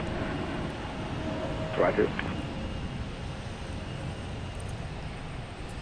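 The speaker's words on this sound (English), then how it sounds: "Oh, there's a plane." An airplane passes near Logan Airport as a steady, broad engine roar that fills the whole stretch, with radio chatter and a brief spoken word over it.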